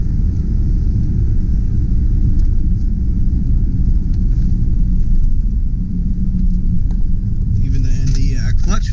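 A 2003 Subaru Impreza 2.5RS with a five-speed manual and all-wheel drive drones steadily from inside the cabin as it pulls through the gears, a constant loud low engine rumble with a voice speaking over it.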